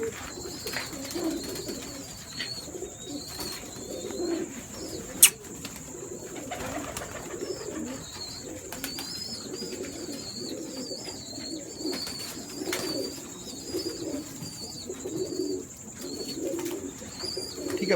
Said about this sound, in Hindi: एक से एक बढ़ के है जी कबूतर